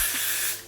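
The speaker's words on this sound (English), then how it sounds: "this is how much I'm going to spray" Heat protection spray hisses from a bottle onto hair in one steady, close burst of under a second, with no talk over it.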